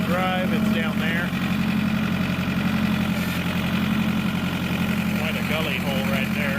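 A utility vehicle engine runs steadily in four-wheel drive on rough ground near an old tractor, a close, even rumble with a low drone, while someone talks over it.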